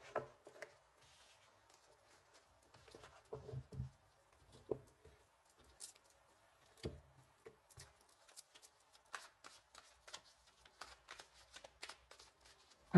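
Tarot cards being shuffled by hand, a faint intermittent riffle and soft slide of card stock in short bursts with quiet pauses, close and low in level.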